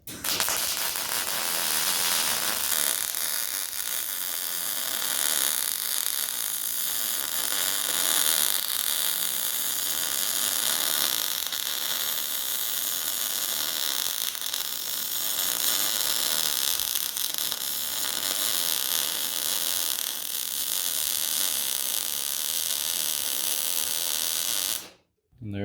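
A welder runs a bead on reinforced Cadillac lower A-arm mounts, a continuous, harsh crackling hiss that holds steady and close for about twenty-five seconds before cutting off abruptly.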